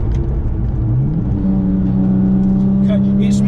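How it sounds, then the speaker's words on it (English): A 575 BHP Porsche 911 996 Turbo X50 accelerates at wide open throttle in second gear, a loud, close engine roar rising steadily in pitch, with a voice talking over it. "And again, second gear, wide open throttle."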